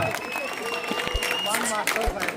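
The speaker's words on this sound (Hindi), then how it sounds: "जोरदार तालियों में इस्तकबाल करें हमारे कासिम उस्ताद का" Applause at an outdoor political rally at Chand Tara Chowk, a crowd clapping steadily to welcome a speaker on stage while a voice carries over a loudspeaker throughout.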